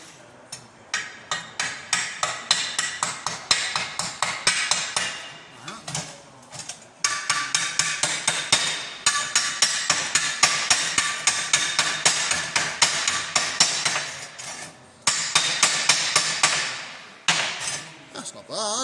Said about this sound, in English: hammer and tap the slag off there.